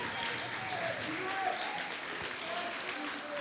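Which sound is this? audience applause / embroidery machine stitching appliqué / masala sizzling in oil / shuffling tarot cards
audience applause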